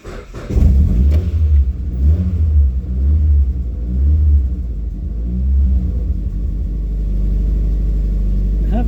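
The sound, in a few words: rattly Nissan engine running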